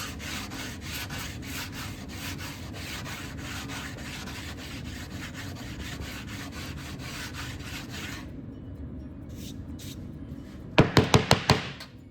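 Sandpaper on a hard block rubs back and forth over primer in a steady scratchy rhythm for about eight seconds. A quieter stretch follows, then a quick run of sharp knocking taps near the end.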